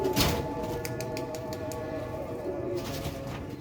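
Pigeons coo softly in a loft, with a low murmuring coo running under a series of sharp tapping and clicking sounds that come and go.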